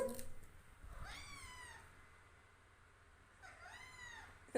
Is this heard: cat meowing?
yes